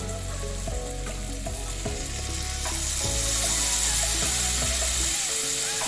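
Shrimp sizzling loudly on a hibachi griddle after a splash of soy sauce, a steady close crackle and hiss with scattered spatula scrapes and clicks, no voices.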